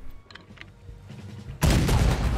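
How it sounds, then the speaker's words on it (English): A cannon blast in the Western video game Red Dead Redemption 2 erupts suddenly as a loud, broad boom with a rumbling tail, following a stretch of quieter game ambience with faint tones. "I'm gonna use a cannon to take out the cannon."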